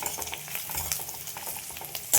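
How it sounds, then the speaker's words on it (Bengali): Onions frying in a pan with a steady crackling sizzle, broken by a few scraping stirs of a spatula, close and fairly quiet. "পেঁয়াজগুলো ভাজা হয়ে গেছে।"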